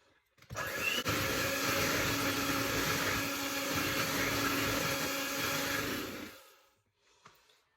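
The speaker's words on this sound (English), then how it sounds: "that's the last thing that I'm going to use this electric whisk for" Electric whisk beating cupcake batter with vanilla, a steady loud whirring drone that runs for about six seconds and then cuts off, with no talk.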